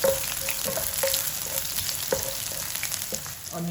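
Garlic fries in hot oil for a Filipino sautéed long beans with pork dish, giving a steady sizzle broken by rhythmic stirring scrapes, close and loud with no talking.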